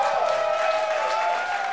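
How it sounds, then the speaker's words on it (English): A live comedy audience claps in a steady wash of applause, loud and continuous across the whole moment. "That was the applause for William's sobriety for 50 days"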